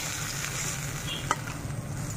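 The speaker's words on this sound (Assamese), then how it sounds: "গৰৈ মাছটো আগত ভাজি আছোঁ" Goroi fish frying in a pan gives a steady, quiet sizzle throughout, with one brief sharp clink partway through and no talking.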